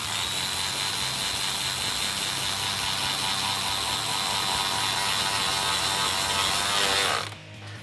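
Continuous rapid ratcheting of a power tool tightening the band clamp on a Rough Country cold air intake filter in a 2015-2020 Ford F150 5.0L, steady and close for about seven seconds before stopping abruptly.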